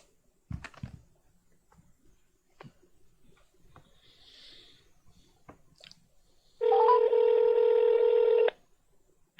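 A phone dialing a call: faint clicks and taps, then one long loud electronic tone lasting about two seconds near the end, heard in a quiet room.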